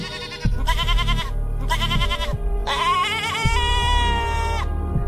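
An animated goat, caught alone by a pack of jackals in a cartoon, gives several loud, strained bleats one after another, each wavering and drawn out, over a low rumbling music or effects bed.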